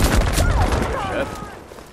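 Gunfire in the Battlefield 5 video game, a dense close-range fusillade of rapid shots that stays loud throughout and tapers slightly toward the end, with some voice underneath.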